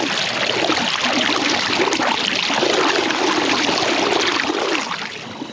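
Irrigation water pouring out of a port in an irrigation ditch, a loud, steady rushing and gurgling flow close by that continues without a break and eases slightly at the very end.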